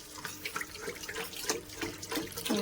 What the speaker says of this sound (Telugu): వాటర్ పోసుకుంటున్నాను ఓ రెండు లీటర్ వాటర్ పోసుకుంటున్నాను